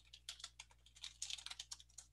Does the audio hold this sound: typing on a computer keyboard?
yes